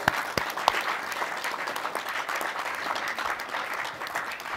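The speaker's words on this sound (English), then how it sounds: "I would like to ask everyone for a round of applause to congratulate Silvio Marinelli" Audience applause at a city council meeting, dense continuous clapping from a crowd with a couple of sharp close claps at the start, holding steady throughout.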